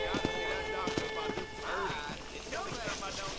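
Horse hooves clip-clop at an easy pace in the Red Dead Redemption western game, soft repeated hoofbeats under outdoor ambience with a voice talking over them.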